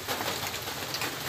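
Steady rain patters down beside a lake near rice-field fishing spots, a dense even hiss heard up close with no talking.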